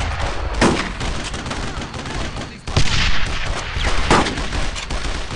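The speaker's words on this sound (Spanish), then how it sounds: "¡Seguid disparando!" Dense, continuous gunfire from the WWII shooter Brothers in Arms: Road to Hill 30, with overlapping rifle and machine-gun bursts that rattle on without pause and swell in loudness twice, while faint shouted voices sit underneath.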